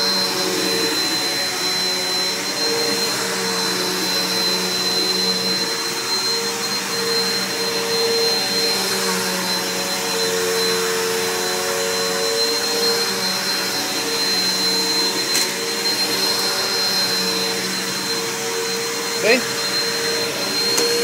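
A Bissell PowerForce upright vacuum cleaner, found in the garbage, runs continuously with a loud, steady motor whine and airflow roar that stays unchanged throughout.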